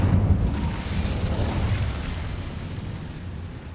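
Incendio fire spell cast in the Hogwarts Legacy video game: a loud fiery burst that settles into a continuous roaring, crackling rumble sustained for several seconds, with no talking.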